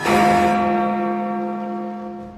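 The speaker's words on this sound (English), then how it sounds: "But as the clock bell tolls" A single clock-tower bell tolls in the animated film The Great Mouse Detective, one loud resonant strike that rings out and slowly fades, heard alone.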